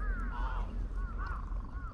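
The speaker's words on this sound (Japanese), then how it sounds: "喧嘩してるでカラスは。" Crows cawing and squabbling in a fight near a riverbank, harsh repeated calls rising and falling over steady outdoor background noise.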